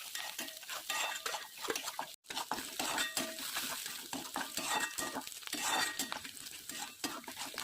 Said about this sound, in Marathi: टाकून कापलेल्या 2 हिरव्या मिरच्या टाकून चांगलं परतून घ्यायचं.